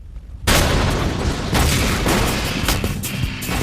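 About two pounds of plastic explosive in a copper plate shaped charge fires at a steel armor plate: after a short quiet lead-in, one sudden loud, close blast, then a sustained roaring, crackling rumble.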